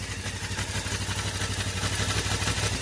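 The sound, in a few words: motorcycle engine revving, smoking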